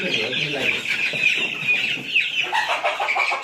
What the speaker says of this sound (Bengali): কই দেখি মা মুরগিগুলো দেখি